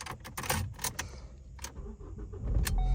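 A 2014 Ford Focus being started with a key: keys jangle and click near the ignition, then the engine cranks and settles into a steady idle rumble, close and clear with no talking.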